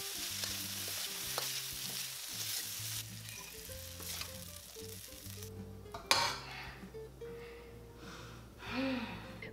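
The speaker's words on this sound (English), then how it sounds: "we're just going to stir fry for another minute" Sausage, dried shrimp, mushroom mixture and sauce stir-fried in a pan for a sticky rice filling, sizzling steadily with scraping stirs and a sharp clatter of utensil near the middle, no talk.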